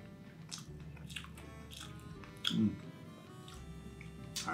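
Someone bites and chews a food with crunchy, crispy bits close to the mic, a series of soft crunches with one louder bite near the middle.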